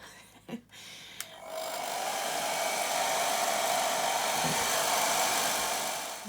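After a few faint clicks and handling knocks, a hair dryer switches on and blows steadily over an inked craft page, holding a constant whir for several seconds at moderate, close range.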